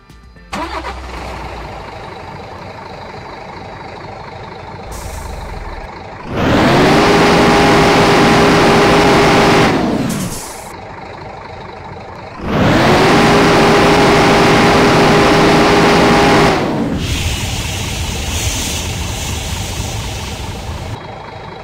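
A bus engine in Bus Simulator Indonesia with an Indian map mod starts and idles, revs up strongly twice for several seconds each, then settles back to a steady idle.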